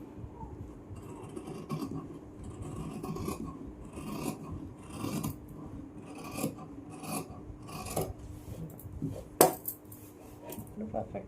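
Scissors cutting the armhole of blouse fabric, a series of soft rasping snips and scrapes repeated steadily at close range, with one sharper click near the end.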